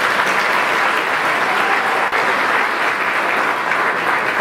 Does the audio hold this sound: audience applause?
yes